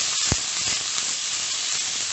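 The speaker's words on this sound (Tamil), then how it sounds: "நல்ல ஹை फ्लेம்ல வெச்சு இப்படி ஃப்ரை பண்ணனும்" Cabbage, spring onion and other vegetables stir-frying over a high flame for manchow soup, a dense close hiss of steam with one sharp clatter near the start, no one talking.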